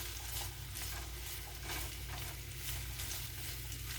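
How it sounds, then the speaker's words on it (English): Creamy zucchini pasta being stirred in a pan, with steady sizzling and frying noise throughout and soft scraping stir strokes layered on top, close and continuous without talk. "we're going to go ahead and stir this up"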